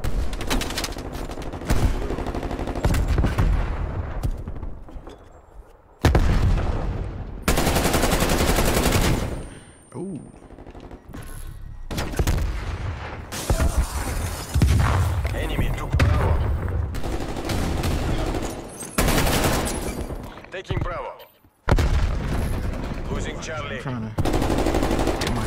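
Rapid video-game gunfire rattles in dense automatic bursts and volleys, loud and close, broken by a few short pauses across nearly half a minute.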